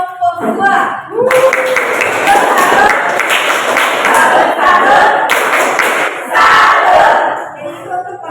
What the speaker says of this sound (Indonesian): sekarang berikan tepuk tangan dulu untuk kelompok